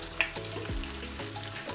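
Tomato paste frying in a pan for a chickpea and paneer biryani gives a steady low sizzle with a few soft stirring scrapes and one brief clink near the start, close and moderately quiet.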